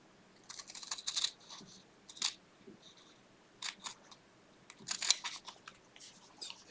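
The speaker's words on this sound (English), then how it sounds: "Now then, let's cut this up here." Scissors cut through wool fabric up close, sounding as short crisp snipping bursts separated by quiet pauses throughout.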